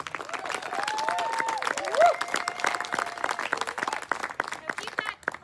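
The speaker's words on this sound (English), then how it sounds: "Now keep that clapping going for the next poet." At a poetry open mic, the audience claps between poets while voices whoop and cheer over the steady, moderately loud clapping, which thins toward the end.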